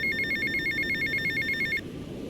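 A payphone rings in GTA Vice City's Little Havana, a loud, steady electronic trill pulsing in rapid repeated bursts over a low background rumble, then cutting off abruptly near the end.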